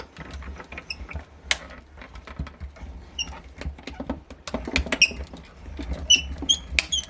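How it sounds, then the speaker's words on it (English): A die-cutting machine with clear plates squeaks as it is cranked, giving short high-pitched squeals in irregular clusters over soft mechanical rumbling and creaks, close and fairly loud. "That's very squeaky."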